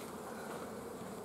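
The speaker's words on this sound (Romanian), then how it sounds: "Ți-a venit o albinuță? S-a apropiat de mine." A honey bee buzzes loudly and continuously right beside the camera at a beehive during a honey harvest, a dense steady drone with no talking.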